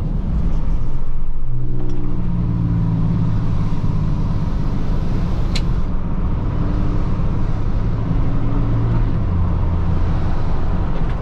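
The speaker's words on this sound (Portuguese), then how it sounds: "O freio motor, ó." Dodge Ram pickup on 37-inch tires engine braking after a 100 km/h run, a loud continuous low rumble with droning engine tones that rise and fall, steady and close throughout with no talking.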